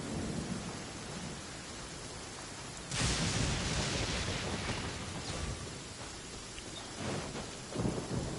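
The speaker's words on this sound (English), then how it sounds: "Compared to the storms I've encountered out at sea, this is really quite tame." A video game thunderstorm: a constant hiss of rain swells into a loud, rolling crash of thunder partway through, with further rumbles later and no speech.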